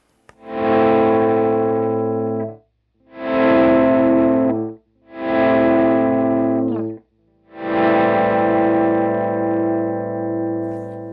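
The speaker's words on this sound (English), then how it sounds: "That mode we're going to be doing volume ramps of our instrument signal." Beetronics Zzombee Filtremulator pedal in B mode applying volume ramps to a distorted instrument signal: four swelling buzzy chords, each fading in and cutting off, with short silences between and the last held longest.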